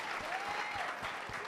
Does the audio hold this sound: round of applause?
yes